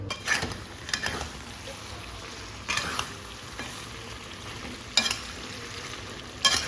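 Meat being sautéed in a pan for a homemade chicken curry, a soft steady sizzle with periodic scraping stir strokes every second or so, close and moderately quiet, no talking.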